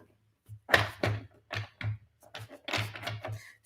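Tarot cards being shuffled close up: a run of crisp, papery slaps and riffles in an uneven rhythm, fairly soft, with no talking.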